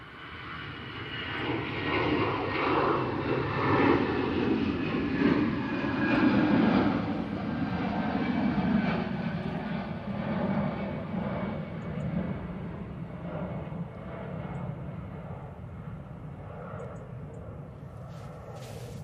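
An EasyJet airliner at Manchester Airport roars steadily with loud, sustained jet engine noise that slowly fades over about twenty seconds, with no talk.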